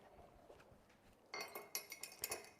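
A metal fork clinks and taps against a glass holding boiled water, a cluster of bright, close chinks and rattles after a quiet lead-in, with no talking.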